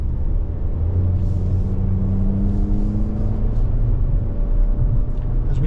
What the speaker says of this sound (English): Got that loud engine humming away, but it gets up to speed.